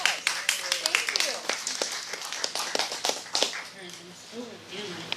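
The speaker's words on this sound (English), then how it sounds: "Let's give her a round of applause." Scattered audience clapping at a talk on military base history, individual claps distinct and uneven, fading and thinning out over several seconds while people murmur and talk beneath it.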